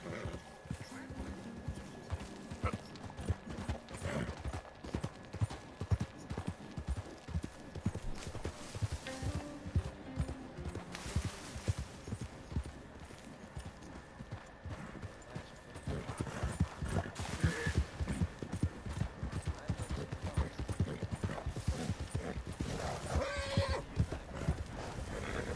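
Horse hooves clip-clop steadily in the Red Dead Redemption video game, a continuous rhythmic trotting with occasional neighs and whinnies, while someone talks over it throughout.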